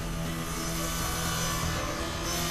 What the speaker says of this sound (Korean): 굉음과 함께 순식간에 나무를 절단하는 전기톱은 언제나 위협적이다